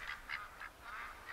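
Ducks quack in The Hunter: Call of the Wild during a mallard hunt, several soft, distant nasal calls repeating in a loose rhythm over quiet outdoor ambience.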